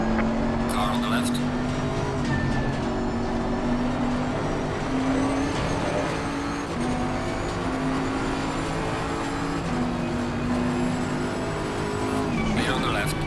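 A GT3 race car pulls alongside on the left during a league race at Suzuka in Assetto Corsa Competizione, its engine drone layered over the player car's steady engine note, with talk on top.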